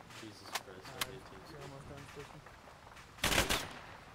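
Heavy DShK machine gun fire in ArmA 3 combat, a couple of sharp distant shots then a loud, dense burst near the end, under ongoing radio chatter and voices.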